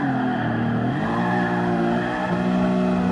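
A classic Ferrari engine in GT Sport revs loud and close toward about 7,300 rpm, its rising harmonic whine climbing steadily and continuously with no talk over it.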